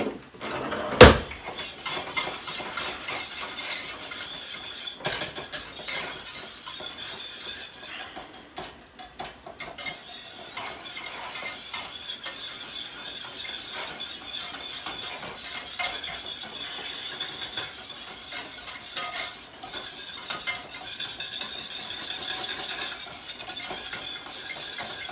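Metal whisk clattering and scraping in a pan while making homemade Alfredo sauce for a seafood boil, a busy continuous rattle of quick taps and clinks with a few louder knocks, with no talk.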